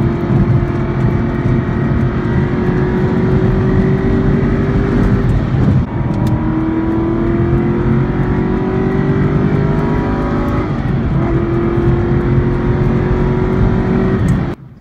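An exotic car is driven hard on a rural road, its engine roaring loud and close throughout, pitch climbing steadily and dropping briefly at gear shifts around six and eleven seconds.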